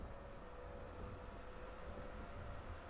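A train in the Train Drive ATS 2 driving game rumbles steadily with a low, continuous hum and a faint whine, the simulated railcar sound holding even and quiet throughout.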